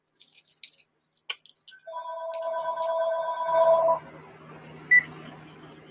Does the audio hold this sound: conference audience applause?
no